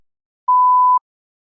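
One clean, steady electronic beep from a TOEFL speaking test prompt, lasting about half a second, alone against silence.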